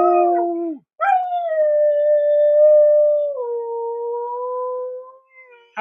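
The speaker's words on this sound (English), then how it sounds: "I'll give you a howl from Max right here." A dog named by its owner howls in long, sustained, wavering notes, loud and close, with a short pause between two drawn-out howls.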